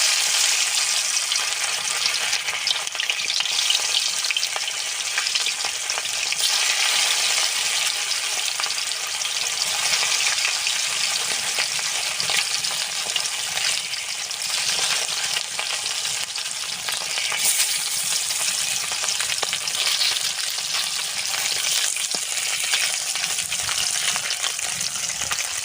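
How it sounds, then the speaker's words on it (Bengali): Pieces of live katla fish fry in hot mustard oil in a kadai, giving a loud, steady, crackling sizzle that holds unbroken throughout, with no voices over it. "মাছের পিসগুলো দিয়ে দেব তেলে।"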